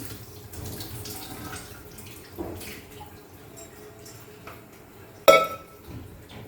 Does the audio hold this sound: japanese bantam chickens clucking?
no